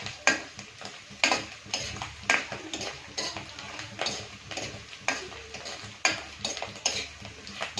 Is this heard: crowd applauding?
no